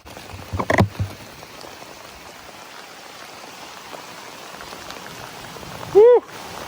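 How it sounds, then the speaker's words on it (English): Rain patters steadily across an open farm with sheep, a soft continuous hiss of falling drops, broken early by a brief burst of nearby noise and a short sharp squeak near the end. "Oh my goodness, it's raining harder."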